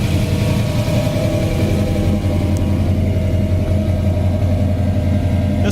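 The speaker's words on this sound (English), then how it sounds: "A dual exhaust sounds great." A 1967 Chevy Nova Super Sport with a V8 said to make over 400 horsepower idles through dual exhausts, a steady low loping rumble that is close and loud, with no talk.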